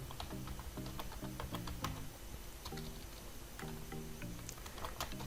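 Someone types on a computer keyboard in quick bursts of soft, close key taps separated by brief pauses, with no talk over them.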